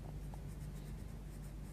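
A Derwent watercolour pencil is worked over paper in soft, steady strokes, giving a continuous faint scratchy rasp close by with no talking.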